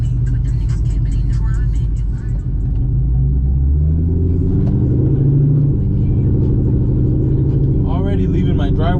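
C6 Corvette fitted with leaf spring bolts driving on a street, a loud low engine and road rumble filling the cabin, rising and falling with acceleration while someone talks over it.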